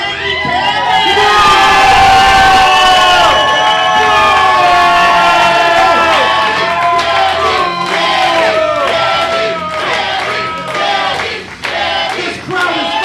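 A wrestling crowd roars and whoops over loud, blaring entrance music at a live match, the cheering and shouts staying dense and sustained throughout with some voices rising above the din.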